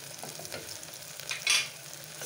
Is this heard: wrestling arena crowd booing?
no